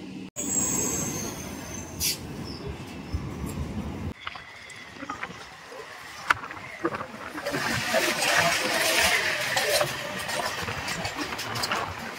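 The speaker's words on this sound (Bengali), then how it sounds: "আর সামনে থেকে ট্রেন চলে এসছে আমাদের শিয়ালদা যাওয়ার গ্যালোপিন" A galloping local train bound for Sealdah pulls into the platform with loud, close rumbling, clattering wheels and a squeal of brakes that swells toward the end.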